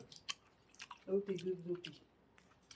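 Someone chewing a mouthful of rice with bottle gourd and shrimp, soft wet squishing bites up close, with brief bits of other sound around them.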